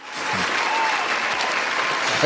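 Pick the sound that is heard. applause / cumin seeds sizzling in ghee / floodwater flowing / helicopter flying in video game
applause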